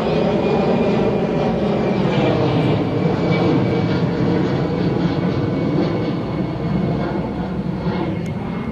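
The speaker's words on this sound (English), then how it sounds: "Sorry for the airplane sound." A fixed-wing airplane flies overhead on a vacation outing, its engine a loud, steady broadband roar that fills the whole stretch without letup.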